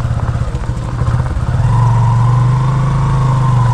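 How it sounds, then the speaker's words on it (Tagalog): Two engine-driven machines, one a Robin and one a Kaligay, run during heavy rain near flooded rice fields, a loud close chugging engine drone that settles into a steadier, heavier hum partway through. "So iniwan na umaandar yung dalawang makina mga sangga. Yung isang Robin at isang Kaligay."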